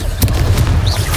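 A Confringo spell explosion from Hogwarts Legacy lands as a short, loud boom with a crackling burst over a low rumble, lasting about a second.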